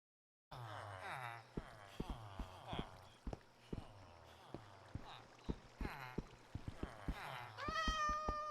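Minecraft cats trapped in a cauldron give a run of rising, wavering meows, joined by brisk percussive taps and knocks that repeat through the scene and a short bright chime near the end, with no speech.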